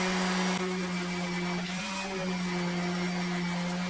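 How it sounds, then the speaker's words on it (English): Sanding a walnut wood base with 220 grit sandpaper, heard as a steady, continuous abrasive whir that holds evenly throughout at close range, with no talking over it. "A little bit of sanding."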